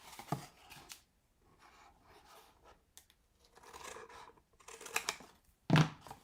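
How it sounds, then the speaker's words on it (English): Scissors snip through a paper flip top box template in a series of short close cuts with pauses, quiet overall, ending in a louder sharp snip. "You're going to cut from here to here."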